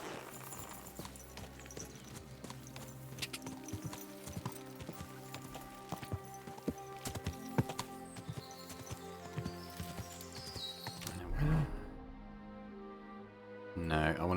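Horse hooves clip-clop steadily while riding through a medieval Bohemian countryside in the video game Kingdom Come Deliverance 2, a dense rhythmic clatter over game ambience that breaks off near the end with a brief snort.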